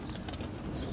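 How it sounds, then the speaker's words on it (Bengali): Military pigeons flapping their wings at close range in a dense, fluttery burst that lasts about a second. "এই মুহূর্তে যে কবুতরগুলো দেখতেছেন এগুলো মিলিটারি কবুতর"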